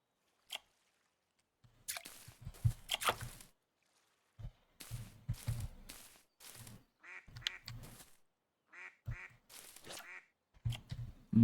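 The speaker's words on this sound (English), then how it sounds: "Ducks in the background here." Ducks quacking in the fishing game Russian Fishing 4, a series of short, fairly loud quacks in irregular bursts over near silence.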